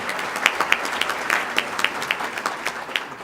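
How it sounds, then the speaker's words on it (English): A small audience at a county government address claps for county officials, sparse, distinct hand claps in an uneven patter, close and moderately loud, with no talking over them. "they really do deserve a round of applause"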